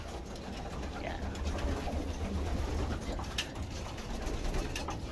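Young racing pigeons being readied for the Hoosier Classic coo softly and steadily from nearby in a loft, amid a constant low background rumble with a few faint voices.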